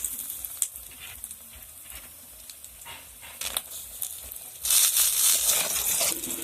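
Homemade bori lentil dumplings frying in hot oil for shukto, a steady crackling sizzle close up that grows louder and brighter partway through, with a few light scrapes and no talking.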